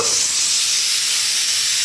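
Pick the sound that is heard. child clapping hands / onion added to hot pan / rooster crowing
onion added to hot pan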